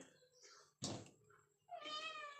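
A cat meows, wanting sardines, in two short cries, the second more drawn out, close but soft, with a quiet thump between them.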